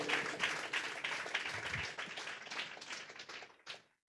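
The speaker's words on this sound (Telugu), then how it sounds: "చప్పట్లు కొట్టండి గట్టిగా." A congregation at a Telugu Christian worship gathering claps loudly together, a dense, steady burst of hand claps that carries on for several seconds and then cuts off abruptly.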